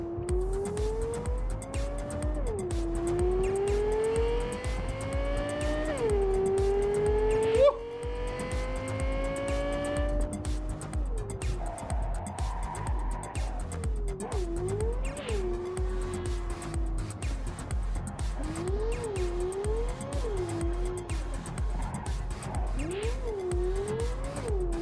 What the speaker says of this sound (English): Oh my god, this car is so cool.